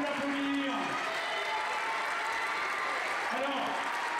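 A fencing club audience applauds a French fencing champion at a mixed-team foil event in Melun, a steady, full wash of clapping that fills the whole stretch with a voice or two faintly underneath.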